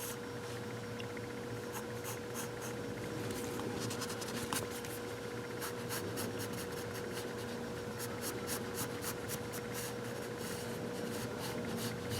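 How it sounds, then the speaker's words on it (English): A pen or pencil scratches and strokes across paper while drawing the underside of a cartoon umbrella, quiet, close and continuous, with short quick marks and a faint steady hum beneath. "we're going to draw these, the underside of the umbrella"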